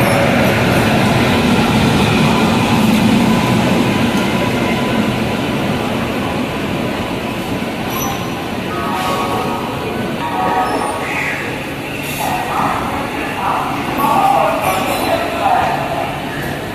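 Panskura local train pulling out of Howrah station in the morning: a steady, loud rumble of the rail carriage, with a constant wash of background voices throughout.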